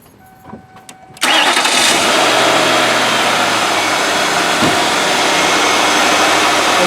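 A passenger car engine, not yet warm, cranks after a quiet pause, catches abruptly, and settles into a loud, steady idle heard close up.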